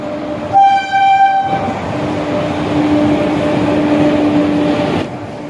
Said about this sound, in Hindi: यहाँ से ट्रेन खुल चुका है मोकामा से